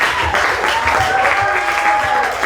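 Loud, steady applause from a comedy show crowd, continuous clapping filling the room with no pauses.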